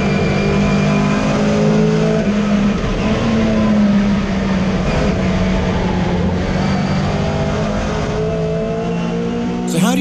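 A Mini Cooper S races hard around the Goodwood circuit, its engine droning loud and steady under load for the whole stretch, with pitch rising and falling through gear changes and other racing cars audible nearby.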